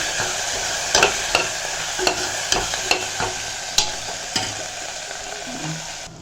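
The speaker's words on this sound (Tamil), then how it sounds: "இப்போ இந்த கிழங்கு எடுத்து நம்ம அதில் போட்டுக்கலாம் ஊற்றி நல்லா கலரி விட்டுக்கலாம்" A spoon scrapes and knocks rhythmically against a pan while mashed tubers fry, roughly one stroke per second, over a continuous bright sizzle close by.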